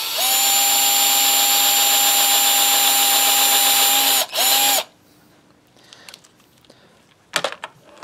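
A power drill runs loud and steady for about four seconds while boring into Telecaster guitar parts, briefly stops, gives a short second burst, then cuts out, leaving quiet handling noises and a sharp clatter near the end.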